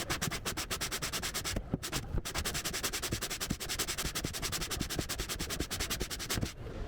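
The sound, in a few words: sanding guitar wood with a concave sanding block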